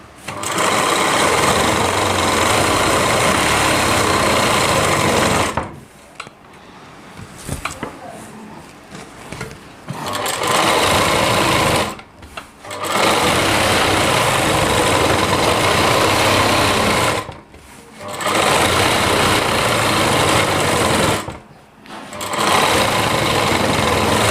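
Sewing machine stitching a heavy-work Rajputi lehenga, loud steady motor whir running in long stretches and stopping briefly several times, with a voice talking in the pauses.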